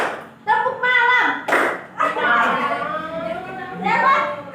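Children in a classroom chant along with a teacher in a call-and-response clap routine, bursts of sharp claps between their loud sung phrases, voices dominating close by.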